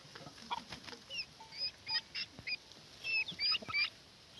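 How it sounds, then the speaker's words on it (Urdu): Village chickens in rural Punjab, Pakistan cluck in short, irregular bursts, with several birds calling close by over a quiet outdoor background. "یہ بھی دیکھیں مرغی"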